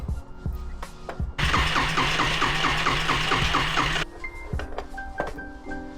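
The starter of a flooded Yamaha Riva 125 scooter cranks hard for about three seconds in a fast, rhythmic whirring churn without catching, framed by quieter clicks and rattles before and after.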